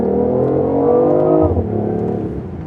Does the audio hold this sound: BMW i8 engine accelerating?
yes